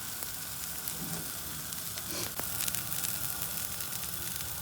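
Dosa fries on a very large pan over high gas, a steady loud sizzling hiss with occasional crackles and a brief scraping stir partway through, no voices.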